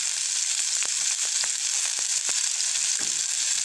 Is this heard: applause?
no